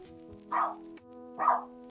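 A dog barks twice in a muffled, indoor-sounding way, two evenly spaced short woofs separated by a low steady background hum, no voices.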